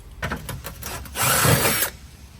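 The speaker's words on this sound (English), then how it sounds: "So I'm gonna grab my drill bit, my number 2 Phillips, we'll back these out" A power drill with a number 2 Phillips bit whirs in short bursts then a longer sustained run as it backs out screws from a boat steering bezel, close up, with a faint grinding rasp and no speech.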